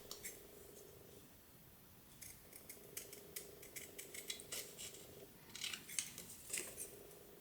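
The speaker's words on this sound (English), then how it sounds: "You need to cut the sentiment. So just go. Snip, snip, snip." Scissors snipping through a paper card sentiment in a quiet room, a quick series of close, crisp cuts that comes in short bursts.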